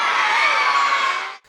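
A crowd of school students cheers at a live orchestra concert at St Mark's College, one loud sustained burst of shouts and whoops lasting just over a second before cutting off sharply.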